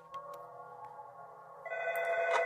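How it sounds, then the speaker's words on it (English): An in-game telephone rings in Five Nights at the Wiggle House, a repeating electronic ring tone that swells louder in its second half, with no one speaking. "And we get a phone call."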